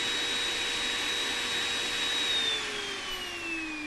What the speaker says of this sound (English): now I'm going to reduce that value until the motor stops